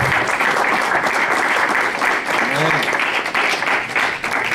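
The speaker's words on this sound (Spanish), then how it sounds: "Un aplauso a Cristo, hermano." A church congregation at a prayer conference in California applauds, giving a steady, sustained wash of clapping from many hands with voices mixed through it.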